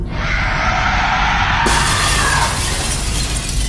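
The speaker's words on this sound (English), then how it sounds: "A demonic screech fills the air, shattering the glass of the lighthouse windows." A demonic screech rings out as the glass of lighthouse windows shatters, a loud, harsh burst with a bright high crash partway through, then a noisy tail.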